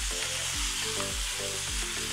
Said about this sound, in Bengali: মশলাগুলো দেওয়ার পরে একদম ফুল আঁচে মাংসগুলোকে আরও মিনিট খানেক রান্না করে নিলাম